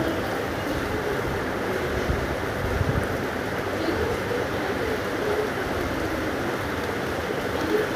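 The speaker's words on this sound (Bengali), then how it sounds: "খুব জোরে জোরে বৃষ্টি হচ্ছিল।" Heavy rain falling hard and steady, a dense, constant hiss and patter that stays loud and even throughout with no talk.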